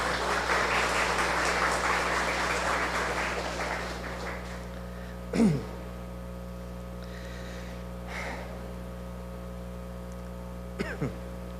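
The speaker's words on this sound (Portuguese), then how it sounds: "Os senhores podem aplaudi-la pelo aniversário." An audience at a spiritual lecture applauds a birthday in a burst of clapping that fades out after about four seconds. A low electrical hum and a few faint, brief noises follow.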